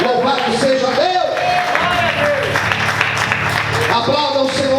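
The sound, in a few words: church congregation applauding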